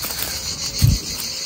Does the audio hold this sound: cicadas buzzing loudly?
yes